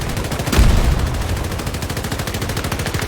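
Sustained automatic gunfire in the video game Battlefield 2042, a steady rapid stream of close shots with a heavier blast near the start, no talk over it.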